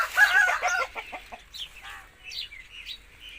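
An aseel rooster at Dinga Chak gives a quick series of close, short, raspy clucks and chirps, fairly loud against a quiet background.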